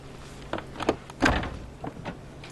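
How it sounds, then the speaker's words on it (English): A stagecoach door is opened and shut by hand, giving a few short wooden knocks and a latching thud near the middle, close by and fairly loud with no talking. "I'll get the door."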